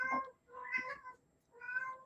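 A cat meows three times close by, each call drawn out and tonal with short quiet gaps between them, alone and fairly soft.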